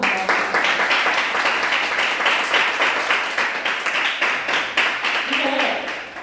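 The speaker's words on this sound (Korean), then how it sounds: "열띤 토론 나눠준 양 팀에게 여러분 큰 박수 한번 부탁드립니다" Sustained audience applause for both debate teams at a high school debate final, a dense, steady clatter of many hands lasting the whole stretch at even loudness.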